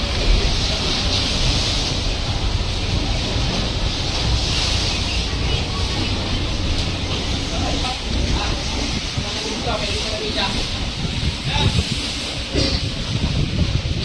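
Rough sea waves and gusting wind roar steadily around a boat on an inter-island crossing, a broad, hissing wash with occasional splashes and muffled voices underneath.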